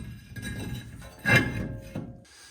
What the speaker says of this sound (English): now we will put the rotor back on